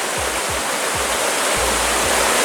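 A mountain waterfall at L'aigue Brun pours in a loud, constant rushing roar close by, with a few soft low thumps underneath and no voices.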